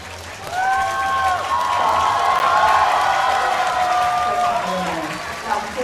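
At a women's 50m rifle three-positions final, a crowd applauds and cheers in a broad, sustained swell, with excited whistling and shouts rising over it while a commentator talks.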